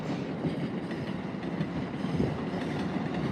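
A Sobu Yokosuka line double-decker commuter train passing near Tokyo Station, a faint, steady rolling rumble with soft wheel clatter heard from a distance, no talk.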